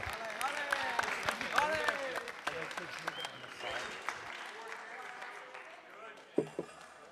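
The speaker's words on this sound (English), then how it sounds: "One last round of applause for James Lunny." At a school event, an audience gives a last round of applause, scattered claps mixed with someone talking over them, fading gradually with a few sharp louder claps near the end.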